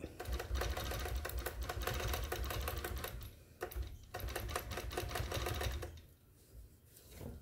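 A sewing machine runs steadily in regulated mode, stitching a quilt block guided by a ruler, its rapid even needle chatter continuous for several seconds before easing briefly near the end.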